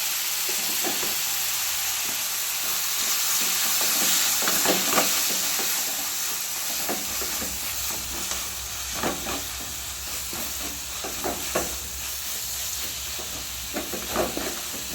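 Tomato and chillies frying in a pan, a continuous hiss of sizzling oil with bursts of stirring strokes spread across the stretch, close by and with no voices.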